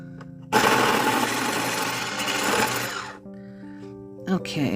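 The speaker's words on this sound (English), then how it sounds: "looks like we need a pencil sharpener" Electric pencil sharpener grinding down a colored pencil, a loud steady whirring burst lasting about two and a half seconds, then a brief second buzz near the end, with speech alongside.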